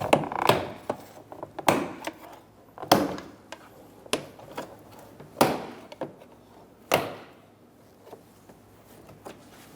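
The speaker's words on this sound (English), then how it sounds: "Using a trim tool, we're going to go around the door," A trim tool works around a 2014-2018 Chevrolet Silverado 1500 door, popping the panel clips loose. About eight sharp snaps land a second or so apart, each close and distinct, with quiet handling noise between them.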